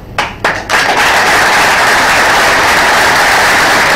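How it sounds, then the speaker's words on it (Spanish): Applause from an audience at a Kawasaki Argentina racing team presentation, opening with a couple of sharp claps before swelling into loud, steady, dense clapping that carries on evenly to the end. "El aplauso"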